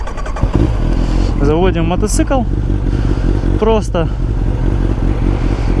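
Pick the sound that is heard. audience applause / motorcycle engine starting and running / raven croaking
motorcycle engine starting and running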